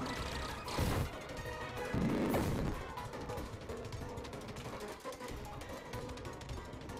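Pokemon Metal Burst attack landing in a video game, two heavy crashing impacts in quick succession followed by a lower rumbling tail and quieter game sounds.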